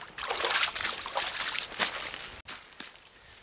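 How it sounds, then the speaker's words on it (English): A siren amphibian thrashes inside a swamp trap, throwing out irregular bursts of splashing and sloshing water, moderately loud and near, with a brief silent gap partway through. "something splashing the water around"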